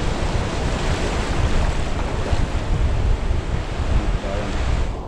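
Heavy ocean surf rolls in steadily at sea during danggit net fishing from a small boat, a continuous broadband wash of breaking waves mixed with gusty wind noise across the microphone.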